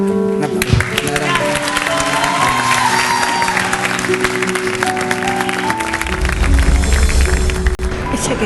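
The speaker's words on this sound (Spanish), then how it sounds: "Un aplauso." Studio audience applause at a televised singing competition in Argentina, with dense clapping and some cheering running steadily throughout, while music and indistinct voices sound underneath.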